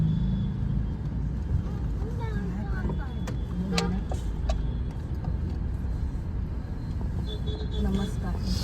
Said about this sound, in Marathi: माणगावमध्ये ट्रॅफिक भेटलेलं आहे बघा